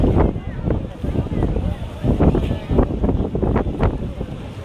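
Strong gusts buffet the microphone with a low rumbling roar while a person speaks over the wind at a dam.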